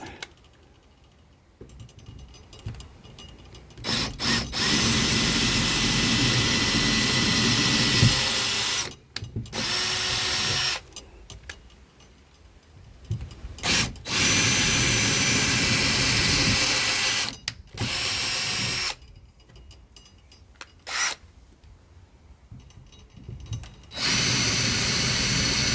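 A power drill in reverse at slow speed backing out screws while fitting VW jail bars, with long whirring bursts separated by short pauses, loud and close.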